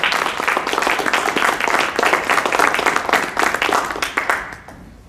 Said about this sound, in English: Applause before I start, so I guess I have to do something right